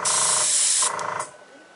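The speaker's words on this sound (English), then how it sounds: "Now I'm going to just airbrush the leaves for the tree." Airbrush spraying food colouring through a stencil onto a Hello Kitty cake to paint tree leaves, a close, steady airy hiss that briefly dips, then cuts off.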